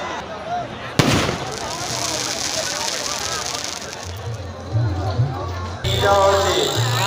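Fireworks at the Jagatpur Kali Puja festival, a sharp burst followed by dense crackling and popping that runs on continuously, with a crowd and voices talking and shouting underneath.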